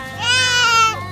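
Goat bleating on a farm, a single loud, wavering cry lasting under a second, close to the listener, over a faint low hum.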